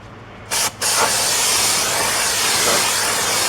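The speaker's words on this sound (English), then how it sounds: "we're just going to take our brake clean" Brake cleaner sprays onto a Chevy Trax rear brake rotor: a short, loud aerosol burst, a brief pause, then a long, steady, close hiss that runs to the end.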